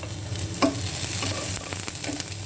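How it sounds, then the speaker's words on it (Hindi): Green chillies and onions frying in a pan, a steady loud sizzle with stirring scrapes and a few sharp pops, close up and alone with no talk. "प्याज के थोड़ी सी पकने के साथ ही मैं हरी मिर्ची डाल देता हूँ।"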